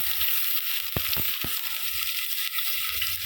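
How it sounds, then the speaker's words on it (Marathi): Finely chopped onion fries in a pan over a wood-fired chulha set up in a flat's balcony, a steady close sizzle broken by a few sharp stirring knocks. "आता याच्यात बारीक चिरलेला कांदा घातलाय"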